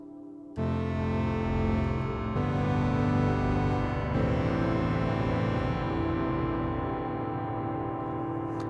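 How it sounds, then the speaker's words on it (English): Sonicware Texture Lab granular processor pitching a sustained synth chord a full octave down, a dense washed-out drone that enters abruptly and holds steadily with shifting chord changes, no voices. "Alternatively, we could go a whole octave down, which will sound like this."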